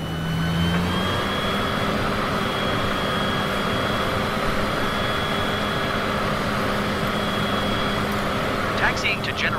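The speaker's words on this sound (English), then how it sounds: "Taxiing to general aviation parking using taxiway Rack Flag 289er." A light aircraft taxis to general aviation parking in Microsoft Flight Simulator 2020, a continuous engine drone with steady tonal whine holding level throughout, mixed with radio-style voices.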